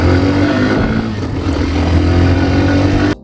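A motorcycle engine runs steadily and loud throughout the ride, a continuous mid-pitched drone with road rumble that cuts off abruptly at the very end.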